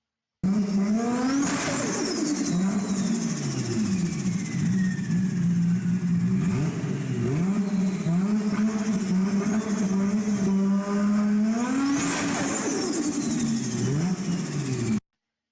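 A car engine revs up and down with a loud turbo whistle and whoosh rising over the roar, continuous and close, with two big surges.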